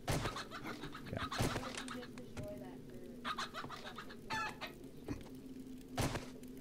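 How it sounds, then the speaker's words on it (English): Chicken clucking in a survival video game set in an apocalypse, several short cackling bursts spread across the clip over a steady background hum, with people talking over it. "I hear a chicken."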